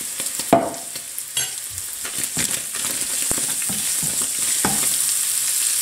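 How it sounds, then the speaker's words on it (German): Ginger-garlic paste stirred into zucchini and minced meat in a frying pan, with steady sizzling frying and repeated scraping, clattering spoon strokes close up, no talking. "Alle untereinander umrühren, zusammen mischen."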